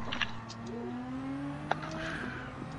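A Subaru race car in Gran Turismo 7 at Watkins Glen, its engine note rising smoothly as it passes at moderate distance, with a brief sharp click partway through and faint tire noise underneath.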